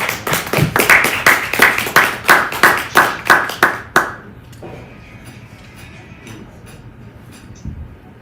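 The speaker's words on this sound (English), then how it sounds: "With a round of applause, Terence Favors." Applause greets a speaker at a Black History Month celebration event: a run of strong, evenly spaced claps that fades out about halfway, followed by a quiet room with faint scattered noise.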